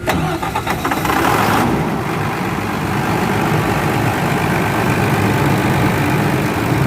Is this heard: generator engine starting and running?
yes